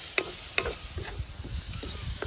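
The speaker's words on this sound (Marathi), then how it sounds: "मंडई आता ही फोडणी दिली मस्त आला लसूण पेस्टची" Ginger-garlic paste tempering for chicken cooked over a wood-fired stove, a soft continuous sizzle with a few sharp clinks and stirring scrapes, close and moderately quiet, no talk.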